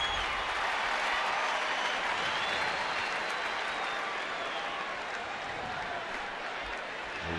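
Sellout crowd at a Giants vs Dodgers baseball game in San Francisco, a broad steady roar of cheering and applause filling the stands, continuous and fairly loud throughout.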